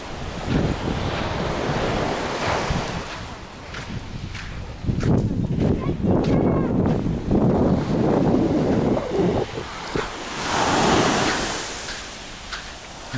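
Surf washes onto Cleopatra Beach in Alanya, Turkey, in February, with steady wind rumbling against the microphone, the waves swelling and easing at a calm pace.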